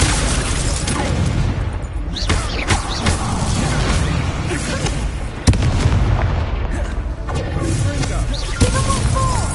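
Fire spells blasting in the Hogwarts Legacy video game, heavy booming bursts and crackling impacts in a dense, loud battle mix, with a voice calling out over the effects.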